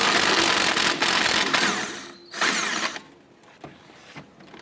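A ratchet with a 14mm socket turns out the upper clevis fork bolt on a 2008-2012 Honda Accord during CV axle replacement, with loud continuous metallic ratcheting that breaks off partway, then sparse clicks and faint clatter.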